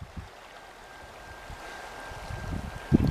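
Soft, steady rushing of the Thompson River in British Columbia on a sunny day, a low continuous flow with a faint tonal whine and a few louder splashes near the end, no voices.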